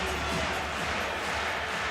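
A packed arena crowd at the Denmark vs France men's handball final of the EHF EURO 2014 keeps up a steady, dense roar of cheering, broad and continuous with no single voice standing out.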